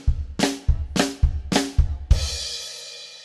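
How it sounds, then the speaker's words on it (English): Drum kit playing right-handed flams paired with bass drum kicks, three evenly spaced hits followed by a cymbal crash that rings out, close and alone. "we can play a flam, a right-handed flam"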